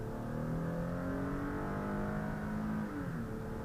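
The 3.5-liter V6 of a 2018 Ford Explorer hums steadily under acceleration, with rising engine tones and road noise heard from inside the cabin, continuous throughout with a slight dip near the end.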